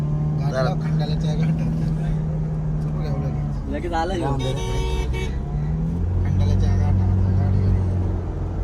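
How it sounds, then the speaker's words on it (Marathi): A car drives along a hill road toward the Konkan, with a steady engine and road hum throughout and a short horn toot, while passengers talk and laugh inside. "गाडी चालली"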